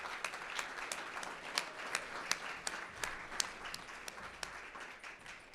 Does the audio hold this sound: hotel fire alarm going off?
no